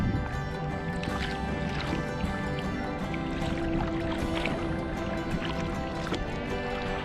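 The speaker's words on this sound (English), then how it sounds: "And right now George is doing all the rowing, which is really kind of a neat little trick" Paddles working a double kayak on open water around the Florida Keys, a steady continuous wash of dipping and splashing with water lapping close by, no voices.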